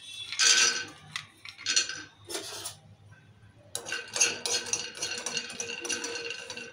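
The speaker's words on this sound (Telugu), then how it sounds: "ఇప్పుడు పల్లీలు వేసుకుందాం." Peanuts go into a pan for mutton paya curry, with several bursts of clattering and scraping, then a longer stretch of stirring rustle, close and fairly quiet, with no talk.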